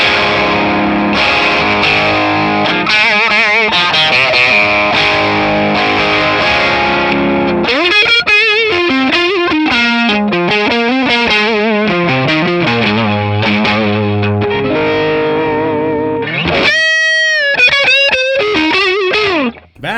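An electric guitar played through a Guv'nor lead overdrive setting on a Tonex overdrive pedal kit, heard loud and distorted in sustained chords and bent lead lines with a brief pause before a final run of notes.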